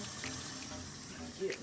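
Tap water runs steadily into a pot being filled for shrimp carbonara noodles, a continuous broadband splashing hiss that persists throughout, with faint voice-like tones underneath.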